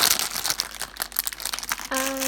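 A crinkly plastic package of fidget toys is torn and crumpled open up close, with quick irregular rustles ending in a short tonal sound.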